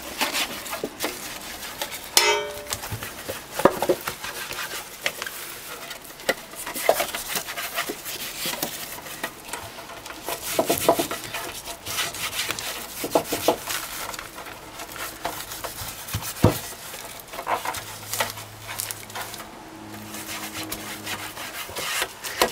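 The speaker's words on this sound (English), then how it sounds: "with a little butter and a piece of the grease paper, grease your can thoroughly" A baking tin for banana bread being greased with butter and a piece of grease paper, giving a long run of soft, close rubbing and scuffing with occasional light knocks against the tin.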